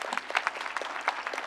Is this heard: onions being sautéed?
no